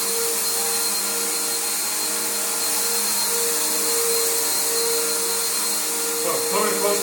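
A Bissell Powerforce bagged vacuum cleaner runs steadily at close range, a constant high-pitched motor whine with a slight shift in tone near the end.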